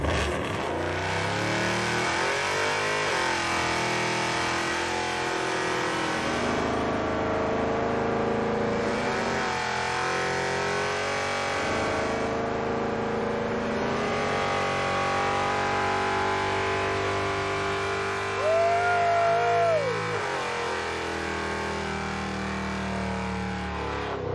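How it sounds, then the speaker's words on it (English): A loud engine of a muscle pickup truck doing a burnout roars and revs hard for a long stretch, steady and close, with a brief squealing rise near the end. "I feel obligated to do a burnout in the muscle truck."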